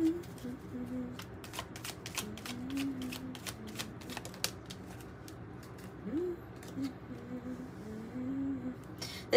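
Tarot cards are shuffled in quick, crisp bursts of riffling and slapping clicks that come in irregular clusters, fairly quiet and close, with a soft voice murmuring in the background.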